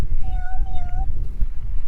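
An outdoor cat near Maralavadi Dam in Horohalli gives one drawn-out, close meow with a slight pitch bend over a low background rumble.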